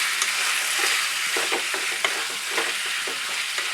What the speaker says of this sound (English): After adding capsicum, we stir it up.